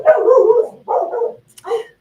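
A dog barks in three short bursts of woofing, fairly loud and close by, with brief pauses between them and no talk over it.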